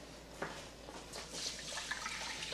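Two cups of water are poured into a pot of long-grain basmati rice, a close splashing gush that rises and churns unevenly for a couple of seconds.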